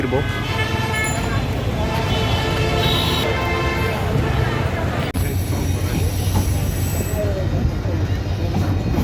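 A train at Chattogram railway station, with a steady rumble, a high whistling or squealing tone and a sudden shift partway through, all heard up close under people talking.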